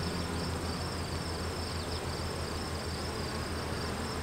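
A dense, steady buzzing of honeybees around a hive frame holding many drones, queen cells and pollen, heard close and continuous without pause.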